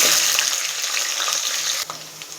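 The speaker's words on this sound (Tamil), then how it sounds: "இப்போ பூண்டு ஆட் பண்ணிக்கலாம்." Garlic hits hot oil already holding fenugreek, curry leaves and dried red chillies for a Tamil bitter gourd tamarind curry, giving a loud, continuous crackling sizzle with a brief stirring scrape partway through.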